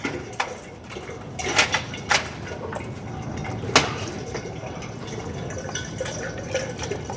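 Motor oil drains from a Chevrolet Silverado High Country during an oil change, a steady faint trickle of liquid with scattered clinks and small drips, no one speaking.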